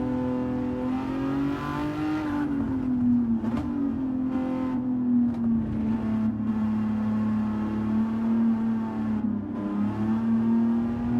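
An Aston Martin V12 race car engine in a racing video game drones loudly and steadily, with its pitch rising and falling through gear changes and brief sharp pops between shifts.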